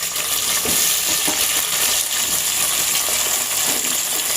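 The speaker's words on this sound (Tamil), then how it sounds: "தக்காளி போட்ட கையோட கத்திரிக்காய் போட்டுக்கலாம் எல்லாம் வதங்க நல்லாவே" Tomato and brinjal sautéing in a pan for a vegetarian kola urundai kuzhambu, a loud, continuous hissing sizzle close up with faint clinks of stirring underneath.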